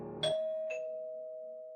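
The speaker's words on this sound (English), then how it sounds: "The doorbell rang." A two-tone doorbell chime rings once inside a quiet house, a bright struck tone followed by a lower one that hangs and slowly fades, alone and close.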